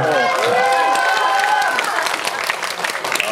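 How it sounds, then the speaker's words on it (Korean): Audience applause at a movie stage greeting in a COEX cinema hall, with steady, dense clapping from a large crowd sustained throughout, mixed with some cheering and voices over the top. "박수 한번 할까요?"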